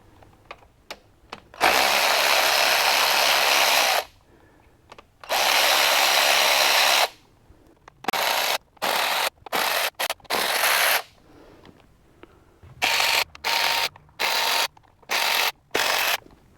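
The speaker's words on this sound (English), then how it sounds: "we're going to start by taking this front bolt out first, and going to take 5 total out of each side" Power tool whirring in bursts as transmission skid bolts come out of a Jeep XJ with an AW4 transmission: two long runs, then a string of short, loud spurts separated by brief pauses, close up with no talking.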